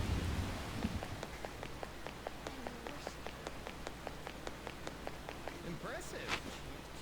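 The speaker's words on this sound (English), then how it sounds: "This rain is intense." Heavy rain in the video game Persona 5 Royal, a steady close wash of falling water with dense, regular droplet ticks throughout and faint voice sounds partly beneath it.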